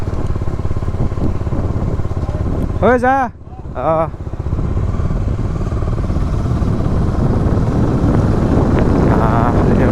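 A motorcycle on an evening ride gives a continuous engine drone with heavy wind buffeting against the microphone, while a rider's voice calls out briefly over the noise.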